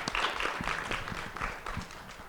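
An audience at an environmental justice summit gives a short round of applause for student panel moderators. Scattered clapping fills the room, fairly close and steady.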